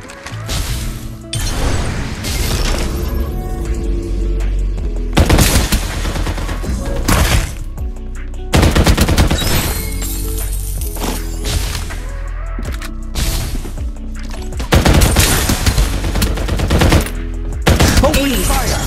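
Dense, close gunfire in Farlight 84: repeated bursts of automatic fire and heavy single shots with booming impacts, loud and continuous for nearly twenty seconds, with a faint voice in places.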